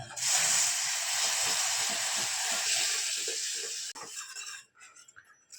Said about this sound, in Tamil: இப்போ நான் பால் மிக்ஸ் பண்ணுறேன்